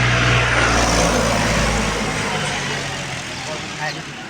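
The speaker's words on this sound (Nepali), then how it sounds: "ट्र्याक्टर हिँडिरहेको" A tractor driving past on a highway in Nepal gives a loud, steady low engine rumble that slowly fades, with broadband road and wind noise over it.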